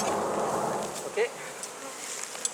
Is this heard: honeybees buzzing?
yes